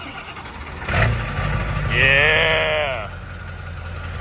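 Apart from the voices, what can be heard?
7.3 liter diesel engine running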